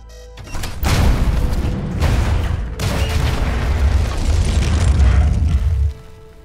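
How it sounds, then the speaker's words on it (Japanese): A habitat hub explodes in the PSVR game The Martian VR Experience: a loud, deep boom with a rumbling roar that swells and surges for several seconds before cutting off. "爆発します。"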